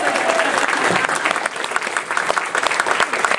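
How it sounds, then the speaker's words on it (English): Lively crowd applause for a prize-winning team at an anime convention's closing ceremony, full steady clapping with a few individual claps standing out near the end. "And give them a round of applause."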